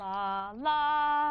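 Two sustained tones, a lower note followed by a higher one a perfect fifth above, sound one after the other with a smooth glide between them, steady and clean with no talking.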